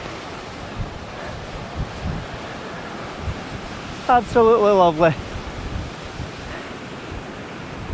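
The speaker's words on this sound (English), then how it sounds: "out towards this beautiful stormy sea." Stormy sea waves beneath the cliffs at Yesnaby Castle sea stack in Orkney, a constant roar of surf with heavy wind buffeting the microphone, and a person speaking briefly in the middle.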